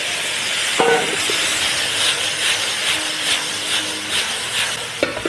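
Lotus root slices stir-fried in a wok with fermented red bean curd sauce: a steady, loud sizzle and hiss of frying, with faint clinks of a utensil against the wok now and then.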